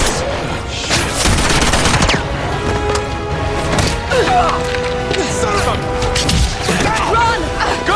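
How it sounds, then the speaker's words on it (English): Dense, loud gunfire and crashing impacts fill a scene from the video game Uncharted 2: Among Thieves, a near-continuous barrage with shouted voices mixed in. "Fire, you fools!"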